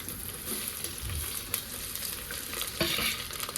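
Tomato, carrot and chillies tossed into onions already frying to a deep red in a pan for drumstick rice, giving a steady close sizzle with scraping stirs and a few sharper clinks, no voices.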